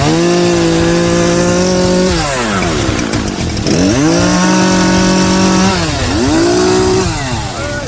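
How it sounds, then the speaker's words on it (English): A chainsaw running near a '73 Corvette chassis, loud and close, the engine revving up and down in repeated pitch sweeps as it cuts and eases off. "So Finnegan broke the chainsaw."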